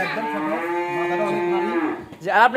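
A cow moos in one long, loud, drawn-out call, close by, followed by a shorter rising bellow near the end.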